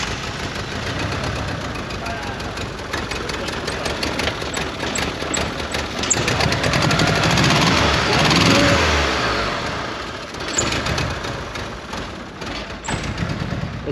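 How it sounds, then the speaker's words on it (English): A Mitsubishi Eclipse engine runs rough and uneven, misfiring on two cylinders and running rich, with a steady lumpy idle and irregular thumps throughout. Voices talk over it in places. "Misfiring on 2 cylinders"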